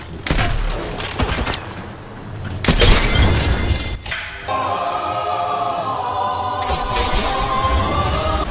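An enemy shield cracking in the Apex Legends video game, a bright shattering burst amid rapid gunfire, followed by a sustained humming tone and more shots.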